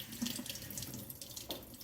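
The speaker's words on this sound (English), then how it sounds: "you can see the water coming through clear at the bottom, which is exactly what you want to see when you rinse anything from a can" Canned chickpeas rinsed under a running kitchen tap in a colander, a steady, fairly quiet stream of water splashing over the beans with small irregular spatters and no voices.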